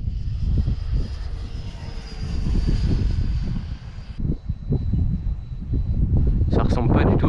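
A small radio-controlled depron F-86 model jet flies overhead, its motor whining loudly and steadily, fading a little then surging again as it passes, with someone talking now and then.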